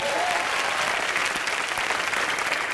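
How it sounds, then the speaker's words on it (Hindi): A studio audience at a Hindi comedy show bursts into dense, continuous applause that stays loud and steady throughout, filling the room with a close wash of clapping. "इनके लिए जोरदार तालियां।"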